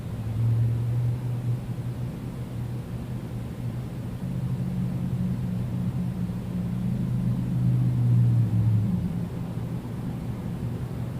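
A 52-inch Emerson 1895 series ceiling fan with good bearings coasting down, a quiet steady low hum and airy whoosh that drifts slightly in pitch, heard alone and close.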